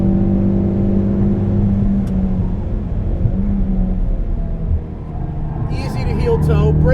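A Mountune-tuned Ford Focus RS engine drones loudly at speed on a race track, a steady rumbling roar with shifting pitch, heard from inside the car with someone talking over it.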